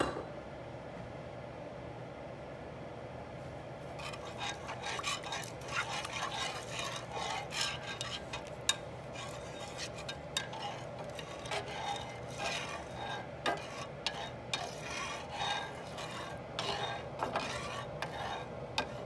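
A soy sauce pan sauce for veal saltimbocca stirred in a pan, soft scraping and rubbing strokes in an irregular rhythm over a low, faint simmer, with no voice.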